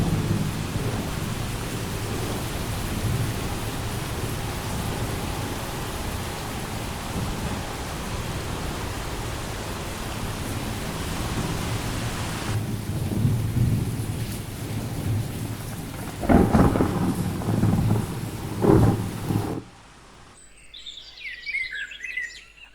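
Rain pours steadily with low rumbling thunder, a relaxing thunderstorm soundscape from the MyNoise website; later a few louder thunder rolls break through, then the mix fades to quiet bird chirps.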